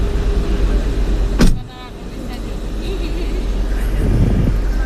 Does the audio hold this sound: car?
yes